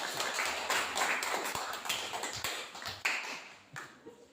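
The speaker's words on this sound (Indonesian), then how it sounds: "berikan tepuk tangan buat kelompok" Classroom clapping for an Indonesian student group after their presentation: quiet, uneven claps from a small number of students, with sporadic sharper taps standing out.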